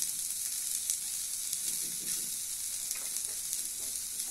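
Grated coconut stirred into sundal in a hot pan, giving a continuous hissing sizzle with soft, repeated scraping of the spoon close by.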